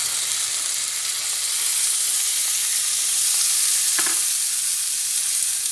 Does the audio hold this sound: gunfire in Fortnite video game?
no